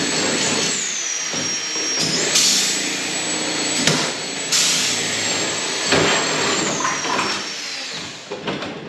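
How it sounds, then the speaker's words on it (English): A power drill whines steadily at high pitch, drilling rivet holes in a Camaro's trim, its motor surging and easing in repeated bursts, close and loud with no talking. "start drilling holes and throwing rivets to it"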